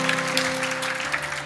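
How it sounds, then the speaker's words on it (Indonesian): A church congregation applauds after a sermon line, a brief, moderately quiet patter of clapping from many hands filling the room. "Boleh tepuk tangan."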